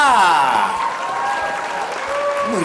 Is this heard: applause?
yes